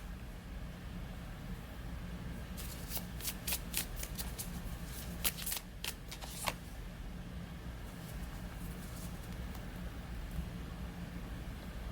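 Tarot cards shuffled by hand, a few quick riffling bursts in the middle against a low steady background hum, close but fairly soft.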